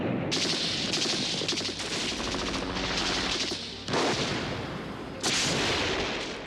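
Gunfire and explosions from a Chuck Norris action movie fight scene, rapid, continuous bursts of automatic fire with heavy booming impacts layered in, loud and sustained with sudden sharp blasts throughout.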